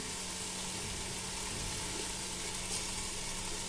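A masala of chili powder, salt and curd being sautéed in a pan gives a steady, low, faint sizzle with no talking over it.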